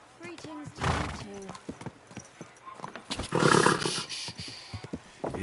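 Horse whinnying and hoof clip-clops in Kingdom Come Deliverance 2, a medieval video game, close and moderately loud, with a neigh and scattered hoofbeats mixed under a man's spoken dialogue and a brief pained shout.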